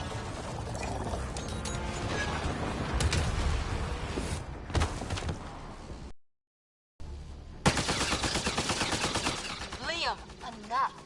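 Gunfire rattles through a firefight in Mass Effect Andromeda. Dense rapid bursts come close and loud, then cut out for a moment of silence before another sharp barrage with scattered shots.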